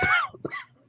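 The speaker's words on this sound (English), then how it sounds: "Oh, bad cough too." A single rough cough followed by a shorter second cough, close and fairly loud, fading quickly into quiet.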